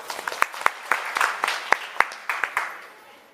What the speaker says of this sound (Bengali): আপনাকে হাততালি দেব।